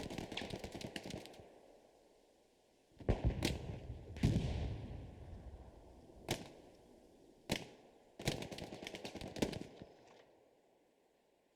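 Bursts of gunfire in the World War II shooter Hell Let Loose during a forest battle, with several rapid automatic volleys and single sharp shots spread across the clip, loud and close with quieter gaps between.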